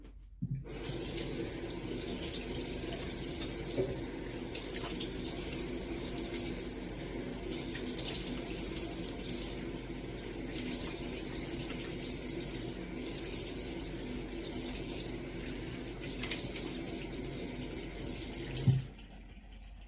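A bathroom tap runs steadily while someone washes off a face mask, the water hiss continuous and close, with small splashes and changes in the flow as hands pass under it.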